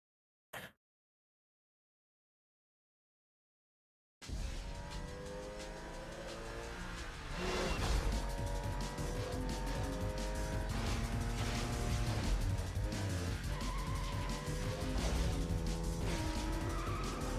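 A Porsche and an Audi race in Need for Speed Most Wanted (2005), engines revving and rising through gears with tire squeals, loud and continuous after a brief click and a few seconds of silence.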